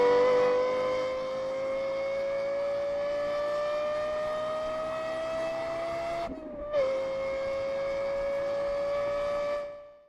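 Lexus LFA sports car engine holding a loud, steady high-pitched wail that climbs slowly, breaks off briefly midway, then returns and carries on before cutting out.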